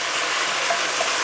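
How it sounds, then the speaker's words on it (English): Beef and onions fry in a hot pan for an Indonesian beef stew, a steady close sizzle with soft stirring scrapes underneath, loud and continuous over a brief moment with no talk. "And we're going to cook these for 3 minutes while stirring."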